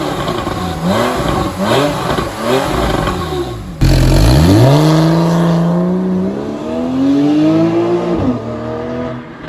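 Porsche 911 Carrera 4S with PDK gearbox and sport exhaust, loud and close: a few quick revving bursts, then a deep roar that climbs steadily through the revs under hard acceleration, easing off near the end.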